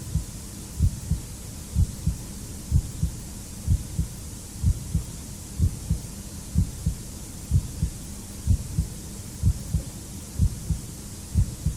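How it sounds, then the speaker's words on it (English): Heartbeat sound effect on a TV quiz call show, a steady low double thump repeating about once a second, clear and even with no talk over it. "Can you hear the heartbeat?"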